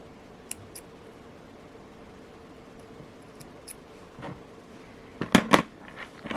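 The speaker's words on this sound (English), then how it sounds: "Now I will cut the end of the thread with the scissors." Scissors snip the end of a jewelry thread at a quiet craft table, a couple of crisp close clicks near the end after faint handling noises.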